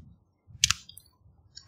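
Keys are struck on a computer keyboard while typing Arduino servo code: a couple of sharp clicks close together, then a lone click after a quiet pause, near and crisp against near silence.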